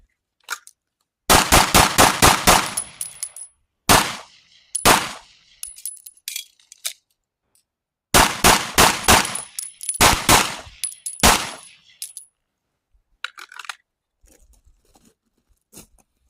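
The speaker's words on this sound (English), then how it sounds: "5 more shots center mass, and then do a Mozambique on the last one." A Springfield Armory Prodigy pistol fired in a shooting drill, loud sharp shots in rapid bursts of several rounds, then single shots and a second rapid string, with quiet gaps between.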